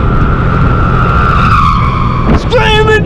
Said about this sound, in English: Screaming trucks, baby!